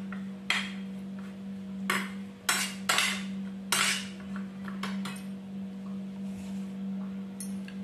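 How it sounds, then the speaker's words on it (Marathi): A spoon stirs a river fish mixture with lemon juice in a bowl, making several sharp metallic clinks and scrapes at uneven intervals over a steady background hum, close by and with no talking. "आणि आता ते आपल्याला चमच्याने हलवून घ्यायचे व्यवस्थित।"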